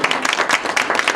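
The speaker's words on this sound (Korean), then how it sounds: "박수하겠습니다." Audience applause at a commemorative event in Washington honoring Syngman Rhee's 150th birthday, a dense, steady patter of many hands clapping throughout the short burst.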